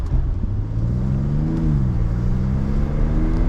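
A Mercedes-Benz S-Class coupe's six-cylinder engine, in Sport Plus mode with its exhaust, revs steadily up toward its soft limiter near 4000 rpm, heard from close by with a rising, sustained drone and no talking.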